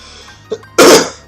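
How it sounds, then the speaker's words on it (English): A single throat clearing close to the microphone: a brief small catch followed by one loud, rough, breathy burst. "I had to clear my throat there"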